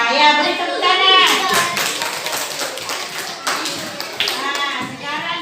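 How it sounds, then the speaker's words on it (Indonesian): A group of children claps hands in a classroom after singing a song, sharp irregular claps clustered in bursts with young voices and chatter mixed in throughout. "Ya, beri tepuk tangan."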